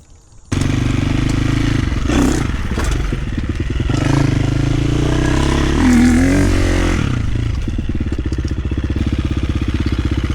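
A KTM 350 dirt bike engine idling at close range gets a sharp throttle blip that swells into a rev, then sputters and falters, with a rough, uneven patter near the end.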